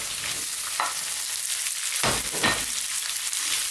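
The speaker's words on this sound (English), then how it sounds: "Now we're going to drop in our sliced onions." Sliced onions frying over high heat in a pan for a vegan braised bok choy dish: a steady, close sizzle with a couple of louder bursts as the onions are tossed, no talk.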